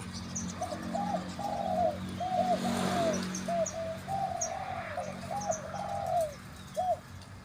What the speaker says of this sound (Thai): นกใหม่สายภูเขาครับ ผม นี่แหละครับผม ฟังออกครับพี่น้อง เสียงเขา